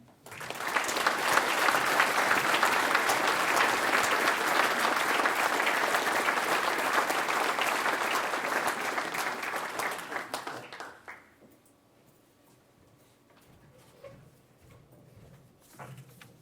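At a Quincy Area Chamber of Commerce agricultural banquet, a large audience applauds loudly after the keynote speech. Dense, sustained clapping runs for about ten seconds, then fades to near silence with a few scattered sounds.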